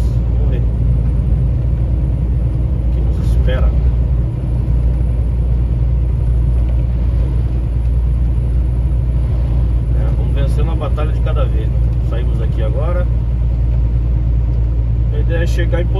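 Road traffic is heard from inside a moving car on a highway trip out of Itatim, Bahia, with a constant low engine and tyre rumble and occasional passing vehicles rising briefly.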